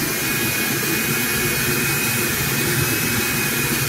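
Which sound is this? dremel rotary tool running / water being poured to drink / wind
dremel rotary tool running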